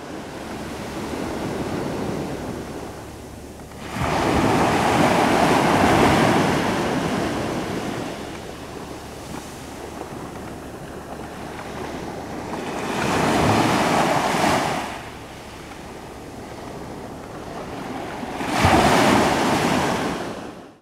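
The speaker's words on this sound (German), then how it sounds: "weil hier ist es ja eher so, dass immer, ja wie gesagt, immer die Wellen rauschen" Ocean surf rushes onto a coastline in repeated broad swells, building loudly and receding, with steady wind noise on the microphone between the crashing waves; no voices.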